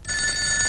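A telephone bell rings steadily and loud for under a second, a bright continuous electronic trill in a comedy scene, with no talking over it.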